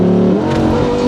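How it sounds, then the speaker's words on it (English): A Lamborghini Huracan EVO LP640-4 makes a sport-mode launch, its engine roaring loud and close as revs climb sharply in a brief rising surge, with possible tire noise. "now watch what a difference the launch makes in this mode. Here we go. Sport launch."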